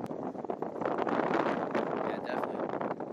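Wind roars and buffets the microphone at a waterside fishing spot at Hains Point in East Potomac Park, Washington DC, a loud, steady rushing that fills the whole moment.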